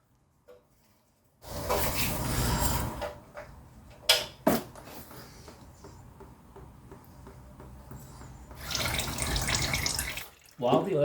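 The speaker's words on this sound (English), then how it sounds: "Loosen up the drain plug." Engine oil pours from the drain plug of a 2004 Honda CR-V oil pan, coming as two loud rushing, splashing bursts of liquid close by, with quieter dripping and trickling between them.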